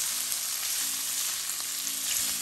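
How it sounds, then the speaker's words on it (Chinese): Garlic, red pepper strips, celery and dried tofu stir-frying in a hot wok, a dense, even sizzle held close and loud, with faint scraping of the spatula beneath. "将大蒜粒和小红甜椒丝倒入， 炒香后和芹菜豆腐干一起翻炒"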